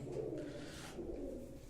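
Pigeons coo softly in a rooftop coop, a low throaty rolling call repeated through the short stretch, faint and close with no voices.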